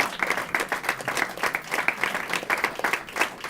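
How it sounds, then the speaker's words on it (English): Moderate audience clapping for Willie Velazquez at an awards reception, individual claps distinct in a quick, uneven rhythm throughout. "You can clap for Willie Velazquez."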